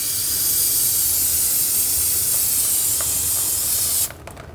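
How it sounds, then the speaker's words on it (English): Brake parts cleaner sprays in a loud, steady hiss onto the rear brake of a 2003-2009 Subaru Forester, lasting about four seconds before it cuts off abruptly into quieter handling sounds. "And when you're done, just clean this up with a little brake parts cleaner."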